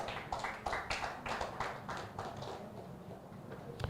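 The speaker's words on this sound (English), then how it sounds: "Big round of applause." Steady applause from a crowd, many hands clapping continuously at a moderate distance.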